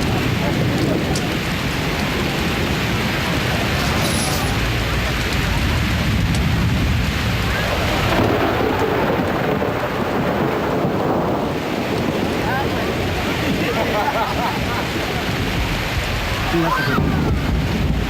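Heavy rain and storm wind roar continuously over a horse race meeting at Glenorchy, a loud, broad wash of noise lasting throughout, with crowd or commentary sounds blended in.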